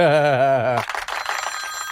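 A telephone rings with a brief warbling trill, loud and close, then cuts off into a noisy background.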